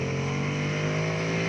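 A custom Ducati Panigale V2 accelerates on a race track, its engine a loud, sustained droning whine that holds steady and close for a brief stretch with no talk.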